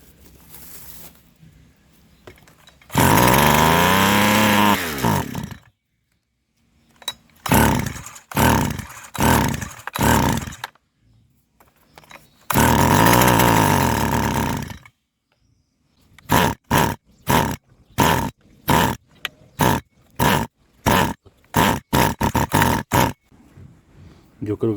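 Stihl FS300 brushcutter engine with a dirty, flooding carburetor, starting in two long rough bursts and then sputtering in short uneven revs and stalls, loud and close, separated by quiet gaps, with someone talking between the bursts.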